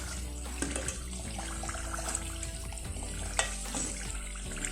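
Beef samosas frying in not-too-hot oil give a steady, bubbling sizzle with a low hum beneath and a couple of sharper clinks from handling, continuous and close with no one talking.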